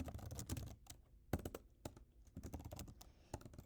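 Quiet typing on a computer keyboard, with irregular bursts of sharp key clicks separated by short pauses, close and soft, no voices.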